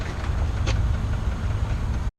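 The rear-mounted turbocharged engine of a 2017 Honda S660 kei car idles with a steady low rumble, heard close and alone before it cuts off abruptly.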